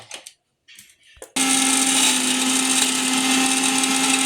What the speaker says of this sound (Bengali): এর মধ্যে 2-3টে আইস দিয়ে এই কাঁচা লঙ্কাগুলো দিয়ে একবারেই পেস্ট করি।